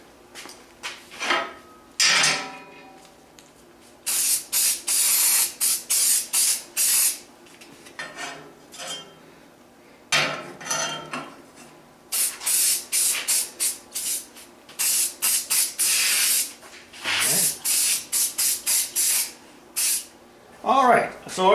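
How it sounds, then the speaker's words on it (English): Rust-Oleum spray paint hissing from an aerosol can onto a homemade tractor step, a series of short and longer bursts repeating with pauses, close and fairly loud. "this is it here from a product from Rust-Oleum, and it works really well"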